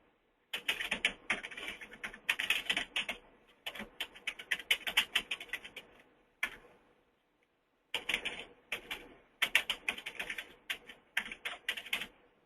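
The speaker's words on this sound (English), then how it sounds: "I'm typing in the phone numbers in different formats" Fast clicking keystrokes on a computer keyboard come in bursts separated by short pauses, close and fairly quiet.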